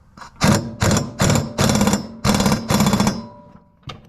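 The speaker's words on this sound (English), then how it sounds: "Get the impact wrench. Get it on there" An impact wrench tightens a lawn mower blade bolt in about six loud, rapid hammering bursts of roughly half a second each, close by, with no talk.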